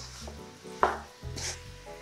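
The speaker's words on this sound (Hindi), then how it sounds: "इसे 5 मिनट तक मैंने ऐसे भूनना है मसालों के साथ" Spices for butter chicken sauté in a pan, a quiet sizzle broken by a few scraping stirs of a spoon against the metal, with brief clinks.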